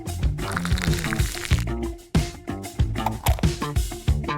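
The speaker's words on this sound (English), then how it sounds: "Add enough detergent." Laundry detergent pours into a washing machine in a cartoon craft scene, rendered as bubbly, gurgling liquid glugs and drips in uneven bursts with short pauses, fairly close and clear, without talk.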